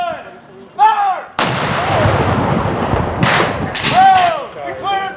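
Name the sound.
cannon fire at a Civil War reenactment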